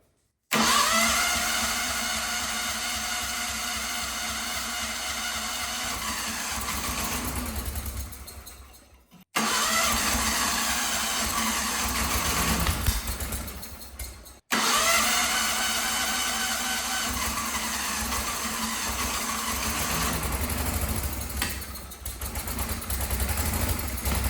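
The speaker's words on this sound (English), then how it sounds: "I'm just gonna hit it with some ether just to make sure it pops off" The engine of an old Wheel Horse lawn tractor, primed with ether, is cranked and fires: a long, loud, steady mechanical roar that cuts out twice and restarts, close by, with no voices.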